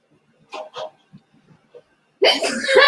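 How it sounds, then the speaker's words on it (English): A person sneezes indoors during a birthday outing, and the sneeze is followed by laughter and close talk. A dog is also nearby and may be sniffing peppers. "What are you sneezing?"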